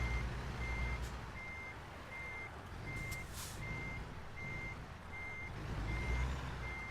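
A reversing truck in American Truck Simulator sounds a steady, evenly spaced series of about nine high beeps over a low engine rumble, with no talking.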